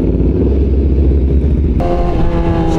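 A Suzuki Hayabusa motorcycle on its stock exhaust idles with a steady, fairly subdued rumble close by, then revs up into a smoother, higher engine note partway through.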